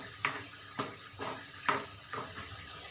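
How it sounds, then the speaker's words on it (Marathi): Onion and tomato masala paste sautéed in oil in a pan gives a steady low sizzle, broken by about five evenly spaced scrapes as it is stirred, close up and with no talking. "ही पेस्ट एकदम तेल सुटेपर्यंत परतून घ्यायची"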